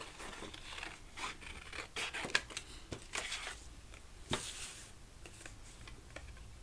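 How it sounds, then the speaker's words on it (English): Scissors cut paper for handmade paper flowers, giving faint, close snips and small crisp clicks in an uneven series, with no talking. "I'm going to go ahead and cut one of the next sizes"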